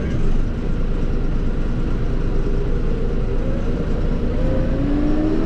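A Mahindra 6065 PST 4x4 cab tractor's engine drones steadily close by, a continuous low rumble with a rising whine as it pulls through the gears.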